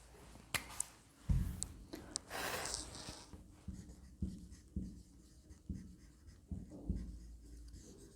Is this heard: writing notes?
yes